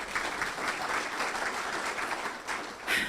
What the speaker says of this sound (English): we're getting applause for that